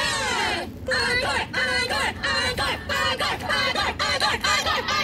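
Children's crowd at a Yo Gabba Gabba live show chants in rhythmic bursts, about eight loud pulses of shouting voices calling for an encore, evenly spaced and close.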